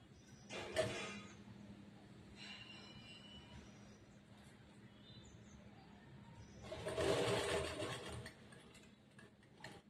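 A sewing machine stitching a churidar semi-patiala pant runs in two short whirring bursts, the longer one near the end, with quieter mechanical noise in between.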